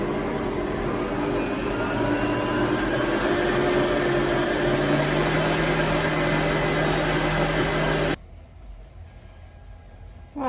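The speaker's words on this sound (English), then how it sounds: "we're going to whisk this" Electric whisk running steadily while mixing butter and sugar for baking, a loud continuous motor whir that holds for about eight seconds and then cuts off abruptly, leaving a quiet room.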